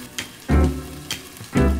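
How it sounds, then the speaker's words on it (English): Burger cutlets frying in a pan, with a steady sizzle punctuated by louder bursts of spitting hiss as each cutlet goes in, close and alone without any talk. "You need to start with frying cutlets."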